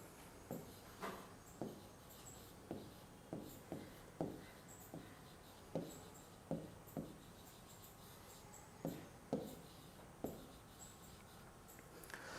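Pen or marker writing on a board or paper, soft sparse taps and short scratchy strokes at an irregular pace, faint against a quiet room hiss.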